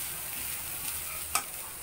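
Turmeric and garam masala roasting in a hot pan give a steady, close sizzling hiss, with one sharp scrape or clink of stirring near the end.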